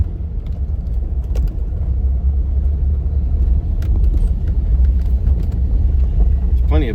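A 2005 Buick LeSabre rolls through a parking lot over bumps and potholes, a steady loud low road rumble heard from inside the cabin, with faint thumps and a short voice near the end.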